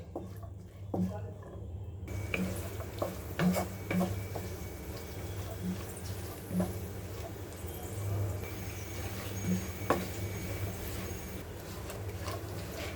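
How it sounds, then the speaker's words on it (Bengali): Cashew nuts frying in a pan while being stirred, with soft scraping strokes and clinks over a low continuous sizzle, fairly quiet and close, with no voices. "এগুলোকে এভাবে নেড়ে চেড়ে মিক্সড করে নিয়ে তারপর এভাবে নাড়তেই হবে যতক্ষণ না ব্রাউন কালার আসছে"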